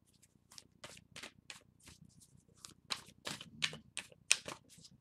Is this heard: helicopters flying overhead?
no